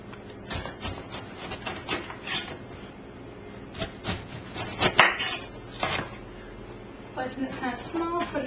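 A whole pineapple is cut up with a knife on a board, giving scattered rasping, scraping cuts and a few sharper chops at an uneven pace, with faint talk underneath.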